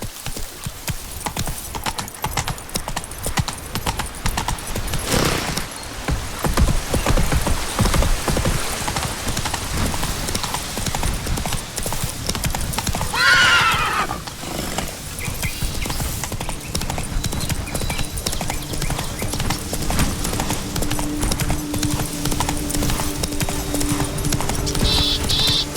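Horse hooves clip-clop in a steady trot through The Witcher 3: Wild Hunt – Blood and Wine, a continuous rhythmic beat over soft rain patter, with a brief neigh-like cry partway through and no talking.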